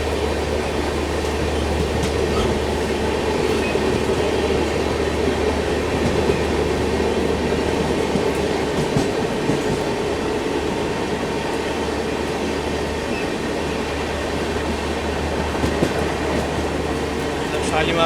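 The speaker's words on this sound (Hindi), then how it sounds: "शालीमार ने भैया रफ्तार उठा दी, अनएक्सपेक्टेड पैरेलल देखने को मिला शालीमार एक्सप्रेस के साथ।" Shalimar Express passenger train running on a parallel track in India, a steady loud rumble of wheels and carriages heard from a moving train, continuous for the whole stretch with faint clatter.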